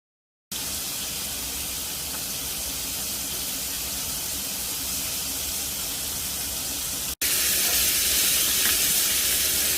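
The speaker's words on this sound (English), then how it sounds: "After adding oil to the frying pan, I will add the fish." Yellow croaker fish sizzles and crackles in hot oil in a frying pan over medium heat, a loud, steady hiss that briefly cuts out, then returns slightly brighter.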